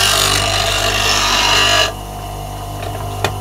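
A grinder puts a fingernail grind on carbon steel held in a jig: a loud, harsh grinding rasp for about two seconds, then a quieter steady motor hum with a brief tick near the end.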